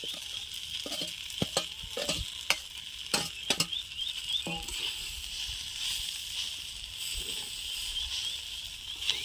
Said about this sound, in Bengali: আমি পাস্তাটা ভালো করে সবজির সাথে মিশিয়ে নিয়েছি আর ভালো ভাজা হয়ে গেছে